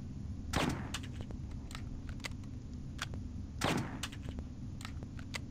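Two gunshots ring out in Hitman: Codename 47, about three seconds apart, each a sharp crack with a short tail over a steady low game hum, along with a few faint clicks and ticks.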